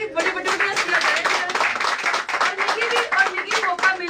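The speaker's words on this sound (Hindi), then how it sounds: "एक बार तालियां मारोगी" Clapping from the audience at a Women's Day celebration in Jammu, a dense steady patter of many hands lasting throughout, with voices and tonal sounds mixed in over the applause.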